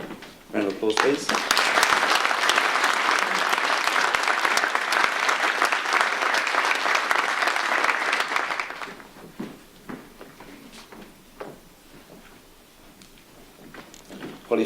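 A school audience applauds at a certificate of achievement ceremony: loud, full clapping from a crowd for about eight seconds, then it thins to scattered claps and room noise with voices.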